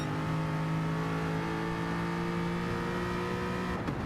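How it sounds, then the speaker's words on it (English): An Aston Martin race car engine roars steadily at high revs during a pro-am race, a strong sustained droning tone close by, with a slight shift in pitch near the end. "Listen to the roar of that Aston engine."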